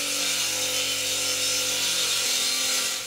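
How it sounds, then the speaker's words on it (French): Norton Clipper CM42 masonry saw cutting with a diamond blade, a loud, continuous high whine and grinding rasp that holds steady and drops in pitch near the end. "Maintenant passons à l'action sur la scie de maçon CM42."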